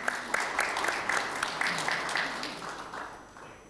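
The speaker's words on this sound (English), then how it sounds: "I think we could applaud in here a bit for the company" Conference hall audience applauding a company: a brief patter of scattered claps, modest in volume and fading toward the end.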